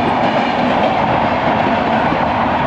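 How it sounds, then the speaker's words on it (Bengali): Puri Shalimar Express rolls into the station at Bagnan, a loud, continuous roar of rails and wagons with a steady clickety-clack rumble close by. "এটি হচ্ছে পুরী শালিমার এক্সপ্রেস, এখন হাওড়ার দিকে ঢুকছে।"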